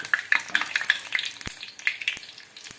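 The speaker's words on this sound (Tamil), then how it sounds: "வடகத்தை பறக்குனாப்பில் எண்ணெயில் போட்டு நல்லா பொரியுது பாருங்கள்." Vadagam, a traditional sun-dried rice-flour fritter, fries in hot oil with a steady crackling sizzle and bright bursts of popping, plus a few sharp clinks and scrapes from a utensil, close and clear.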